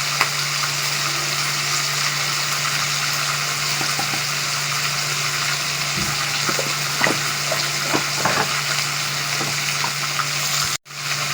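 Biryani masala with salt and red chili is stirred in a pan for chicken biryani, giving a continuous soft sizzle and scraping with a steady low hum and a few small clinks, heard alone.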